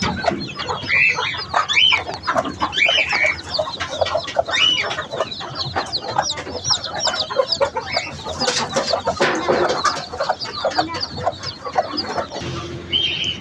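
A flock of chickens with newly hatched chicks clucking steadily and busily, close by, with overlapping calls and a dense, continuous farmyard chatter throughout.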